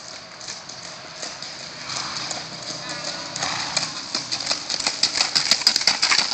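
A four-year-old pusher mare's hooves clip-clop in a steady, quickening rhythm that grows louder toward the end, with people talking over them.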